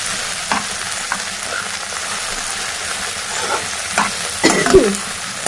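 Okra and red chilli fry stirred in a pan alongside drumsticks, a close steady sizzle under repeated scraping spatula strokes, with a louder clattering knock of utensil on pan near the end.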